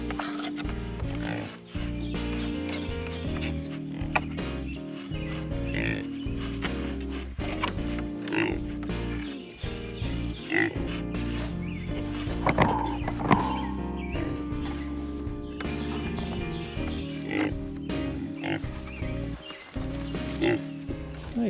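Pigs grunting and snorting nearby while scratching on things, a steady busy stream of low noises that carries on throughout.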